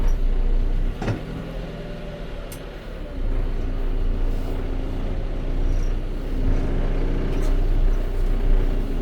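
Steady diesel engine rumble from a John Deere 410L backhoe driving in reverse in four-wheel drive, loud and close, with a sharp click early on and a brief dip in level before the drone resumes.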